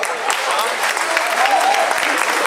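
Crowd applause at a 10 km birthday run award ceremony in Gdynia, honouring the women's podium finishers; an even, continuous wash of many hands clapping outdoors, moderately loud and sustained without pause.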